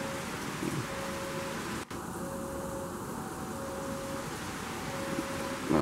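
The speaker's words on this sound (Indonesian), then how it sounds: "Hujan deras nih ya, ditembus juga nih, oke." Steady hiss of heavy rain pours continuously at a railway level crossing near Rangkasbitung, Indonesia, with a faint tonal hum running underneath and a brief dropout partway through.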